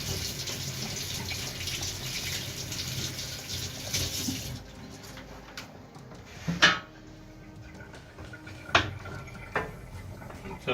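Vegetables are rinsed under a running kitchen tap while cooking, a steady hiss of water for several seconds that then stops, followed by a few clattering knocks of dishes and pans nearby.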